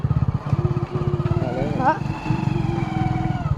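A motorcycle engine hums steadily at close range on a village ride, with people talking over it throughout.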